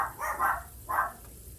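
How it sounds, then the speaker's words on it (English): Dogs at a home bark outdoors in a quick cluster of a few sharp barks, close and loud, then fall briefly quiet with no talking. "And the dogs are barking as usual."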